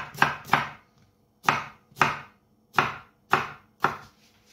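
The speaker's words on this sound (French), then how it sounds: "ciseler notre oignon." A knife slicing finely through a red onion on a cutting board, landing in sharp close thumps that come mostly in pairs with brief gaps between them, seven strokes in all and no talking.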